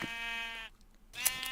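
Sheep bleating in the Minecraft video game: two clear, wavering bleats separated by a short pause, close and moderately loud, with no talk over them.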